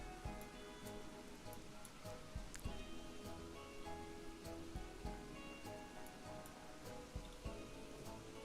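Steady rain pours down in Planet Coaster 2, a dense continuous wash of droplets with occasional sharper splashes, mixed with faint game ambience and no talk.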